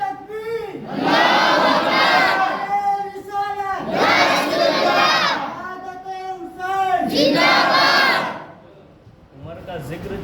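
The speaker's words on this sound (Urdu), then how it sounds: "ایک نعرہ لگا لیں، جوش آ جائے۔" Large religious gathering shouting a slogan in unison: three loud, long collective chants in call-and-response rhythm, each surging then stopping, with a quieter shout starting at the end.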